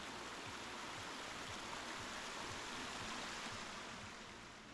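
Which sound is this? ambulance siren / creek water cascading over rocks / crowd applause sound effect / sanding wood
creek water cascading over rocks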